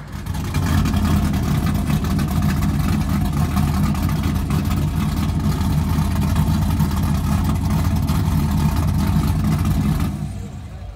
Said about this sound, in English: This is a Honda that actually has a Corvette engine in it with nitrous